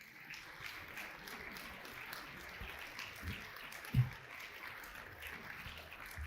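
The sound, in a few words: congregation applause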